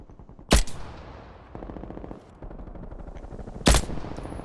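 Gunfire in Call of Duty: Black Ops Cold War during a hardcore team deathmatch: two loud, sharp shot bursts about three seconds apart, with a low rattling sprayed fire running faintly between them.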